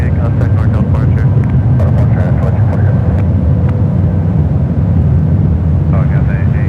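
An Air India Boeing 777-300ER departs San Francisco airport toward the 28 runways, giving a loud, continuous low engine roar. Faint radio voices come and go over it.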